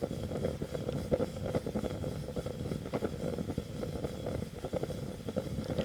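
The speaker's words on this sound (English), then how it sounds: "That rocketing sound is what is the distinctive noise for rocket stoves." A DIY ethanol rocket stove built from a 300 mm long, 4-inch square tube roars steadily and close up, a dense rushing burn with flickering pulses throughout and no talk.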